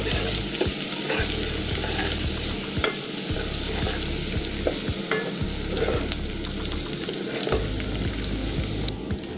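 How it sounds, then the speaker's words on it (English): Ginger and grated garlic fry in a pan for a spaghetti sauce, giving a steady, close sizzle broken by frequent scraping stirs throughout. "I'm going to add my ginger and my garlic."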